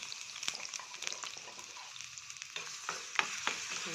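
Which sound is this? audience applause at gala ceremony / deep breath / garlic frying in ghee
garlic frying in ghee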